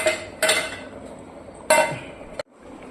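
Stirring fish curry (sardine) in a clay pot, with two sharp scraping clinks of a utensil against the pot over a steady low simmer, close and fairly loud.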